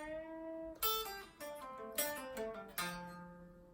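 Guitar playing the opening phrase of a solo, sustained notes with bends, then three sharp picked attacks ringing out with bright overtones, close and solo without talk.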